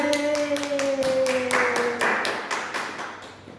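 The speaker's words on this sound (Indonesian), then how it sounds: "Beri tepuk tangan anak-anak." Children in a classroom clap together in a rhythmic, evenly spaced pattern of distinct claps, close by, with a brief tonal hum underneath early on.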